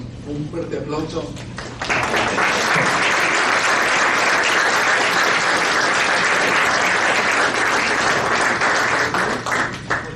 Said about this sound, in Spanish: darle pues un fuerte aplauso.